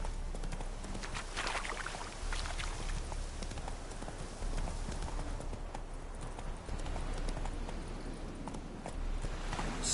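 Hooves from a video game horse clip-clop in a fast, steady galloping rhythm, close and continuous under a constant background bed, with no voices.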